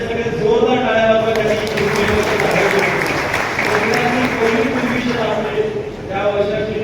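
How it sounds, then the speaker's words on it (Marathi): An audience at a Kunbi conference in Khed applauds with sustained, dense clapping that carries on for several seconds, mixed with a loud announcer's voice talking over it. "सगळे जोरदार टाळ्या वाजवा."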